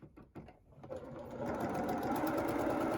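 A sewing machine runs a quarter-inch seam on fabric for a scrappy rail fence quilt, starting with a few short stitch bursts and then settling into a fast, steady, close mechanical whir.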